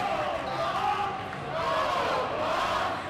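Crowd roaring and cheering at a Colorado Buffaloes versus Colorado State Rams college ice hockey game, a dense, steady wash of arena noise that holds loud throughout with slight swells.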